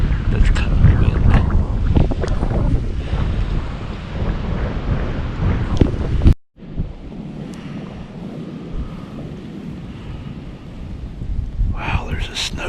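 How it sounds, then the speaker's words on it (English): Wind from a snow squall sweeping across open ground during a Pennsylvania rifle deer hunt, roaring and buffeting loudly before a brief cutout, then a softer steady rush that builds again. "Wow, there's a snow squall blowing through right now."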